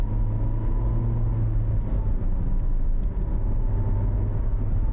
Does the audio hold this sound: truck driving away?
yes